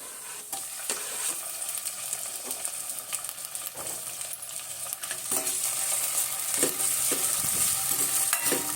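Onion and a small tomato fry in a pot over a village-style wood-fired stove, a steady sizzle broken by repeated ladle scrapes and clinks that grow busier toward the end.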